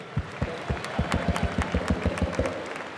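Steady, rhythmic hand claps at a dance competition event, a strong even beat repeating about every quarter second, close and punchy over a low crowd murmur.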